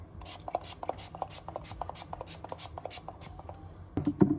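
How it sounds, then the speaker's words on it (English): A rapid string of about a dozen short, hissy spritzes from a Huda makeup setting spray bottle, evenly paced, followed by a brief rustle. "we're gonna do a test spray"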